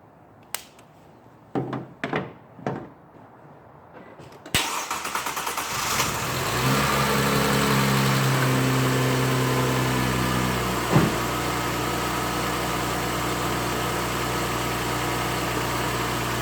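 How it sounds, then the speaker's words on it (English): A few faint clicks and cranking attempts, then a car engine, boosted by a GOOLOO GP4000 jump starter, turns over and catches, revving briefly before settling into a steady idle. "once I hit that, hopefully I can start the car"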